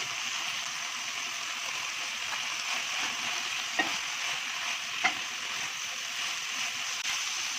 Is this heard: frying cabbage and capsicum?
yes